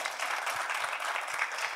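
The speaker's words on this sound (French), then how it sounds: "Il plaide bien, applaudissez pour lui." Steady applause from an audience at a live art and music event, honouring a choir president, a continuous patter of many hands filling the room at moderate level for a couple of seconds.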